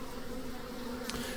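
A steady, low buzz of a honeybee swarm drones quietly and continuously, like many bees humming together at a distance, with no voices.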